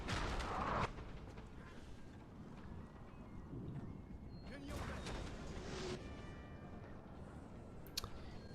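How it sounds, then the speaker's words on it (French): Cannon fire from English artillery in the video game Napoleon Total War, with several dull booms and cracks spread over a windy battlefield ambience. "l'artillerie anglaise a également été déployée et elle réplique"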